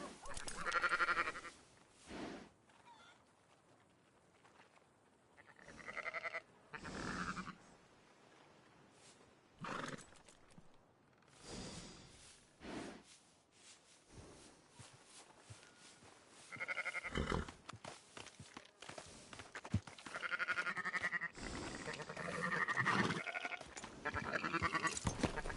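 Sheep bleating in the Red Dead Redemption 2 game world, several separate calls spread across a quiet stretch, some close and fairly loud, others fainter, with no voices.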